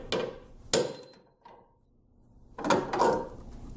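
Sharp metallic hammer strikes on a transfer punch ring out, two close together, a pause, then two more, each loud and near with a short ringing tail.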